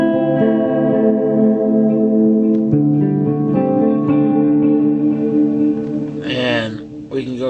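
Electric guitar through the TC Alter Ego Vintage Echo preset on a Plethora X5 pedalboard, sustained notes trailing into repeating echoes and reverb tails, with a final strummed burst near the end; the effect dominates throughout.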